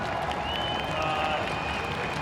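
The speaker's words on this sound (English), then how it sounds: "You can hear this crowd starting to come alive a little bit." A college football stadium crowd at an MSU Moorhead versus Northern Michigan game: a steady, dense roar of cheering and clapping, with a faint whistle-like tone riding over the crowd noise.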